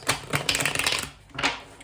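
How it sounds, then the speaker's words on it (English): Tarot cards shuffle in quick, clattering riffles, close and fairly loud, in two bursts with a brief pause between. "we will give the deck a few more shuffles."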